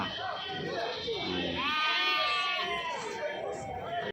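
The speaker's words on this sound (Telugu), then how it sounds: "ఇన్ని మేకలే కదా?" Goats bleat close by at a weekly sheep and goat market in Kadiri, with long wavering cries rising over crowd murmur and overlapping voices.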